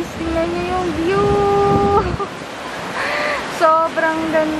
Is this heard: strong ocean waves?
yes